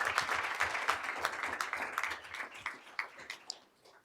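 Audience applause for schoolchildren at a school board meeting, a dense spread of clapping that fades toward the end, fairly distant in the hall.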